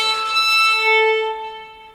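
A single violin note bowed too close to the bridge with too little weight, thin and glassy with whistling overtones, sustained about a second before fading out.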